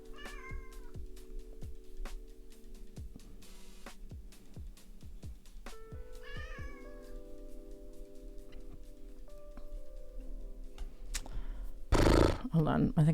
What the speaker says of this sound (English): Do you hear my cat though? My cat's screaming.